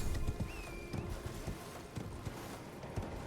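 Hooves of the spectral steed Torrent in the video game Elden Ring clop in a quick, steady rhythm, with a brief whinny early on, moderately close and unaccompanied by talk.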